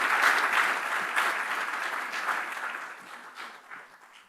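Audience applause at a university student awards ceremony, a dense, fairly loud burst of clapping that gradually fades over a few seconds.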